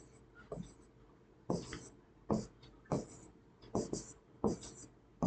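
Writing out a 3×3 identity matrix on a board during an engineering maths lesson, a rhythmic series of close scratchy strokes and taps at roughly regular intervals, with no talk.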